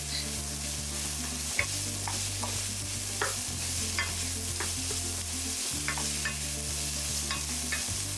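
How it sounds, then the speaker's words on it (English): Finely chopped onions sizzle steadily in a pan for a chole recipe, with intermittent stirring scrapes over a constant frying hiss and no talking. "I'll be cooking my onions until they're soft"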